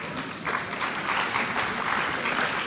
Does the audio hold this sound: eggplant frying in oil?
no